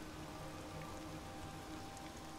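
Steady rain falls on the ground in the Horizon Zero Dawn video game, a dense, even hiss that holds at the same level throughout with no voices.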